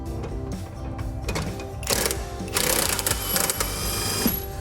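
A Litheli U20 impact driver turns an RV scissor jack, giving a steady mechanical whir with rapid rattling impacts that grows louder and busier partway through, heard alone without talk.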